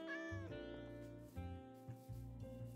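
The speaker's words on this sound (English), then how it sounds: "It says there's a cat right here. I heard it." A cat in Minecraft meows several times in a row, clear drawn-out wavering meows close by over faint background music, with no talking.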